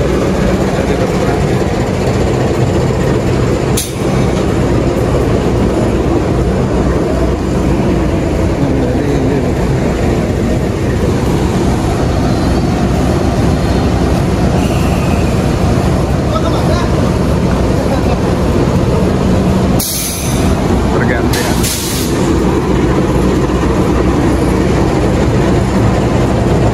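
Train locomotive idling at a station during a crew change, a steady heavy low engine drone close by with a few brief sharp clanks and knocks and faint background voices.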